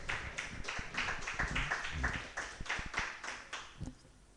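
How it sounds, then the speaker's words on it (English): A small open mic crowd claps for a performer named Lewis, a modest, fairly quiet round of hand claps with individual claps audible, thinning out toward the end. "applause for Lewis, please."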